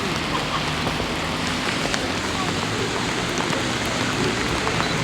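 Heavy December rain during a walk through Beeston, Nottinghamshire, a loud dense hiss of drops with scattered sharper taps close by.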